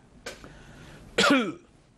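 Two short coughs, the first brief and lighter, the second harsher and louder with a rough, strained voiced tail, from a speaker hit by a coughing fit while delivering a political speech at a party conference.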